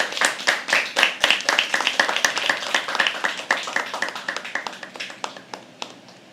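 Audience applause at a live poetry open mic at The Habitat, a small crowd clapping briskly and steadily for several seconds before tapering off, close and fairly loud, with a brief voice speaking in the room.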